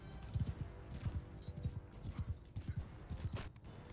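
Horse hooves clip-clop in a steady galloping rhythm in Mount & Blade II: Bannerlord, close and continuous with faint game sounds over them.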